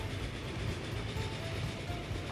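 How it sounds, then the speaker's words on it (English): A steam train running on the Gillingham to Stockton service in the video game Transport Fever 2, a continuous loud rumbling roll of wheels and carriages with a low steady drone throughout. "Now that's a steam train."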